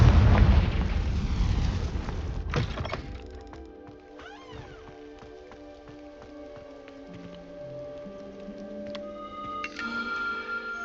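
Fiery Confringo spell explosion in the Hogwarts Legacy video game: a loud, brief burst at the start that quickly fades into a quieter magical shimmer and tinkling effects.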